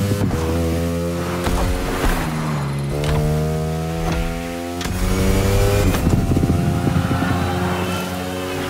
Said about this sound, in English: Lean your bike into the turns and let her rip on the straights.